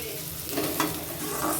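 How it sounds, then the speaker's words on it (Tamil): Chopped onions frying in oil in a pan for a street-style mushroom dish, giving a steady low sizzle with soft stirring scrapes and no talk. "அதில் தேவையான அளவுக்கு கொஞ்சம் எண்ணெய் எடுத்துக்கிட்டு அதோடு நம்ம நறுக்கி வச்ச வெங்காயம் போட்டுக்கலாம்"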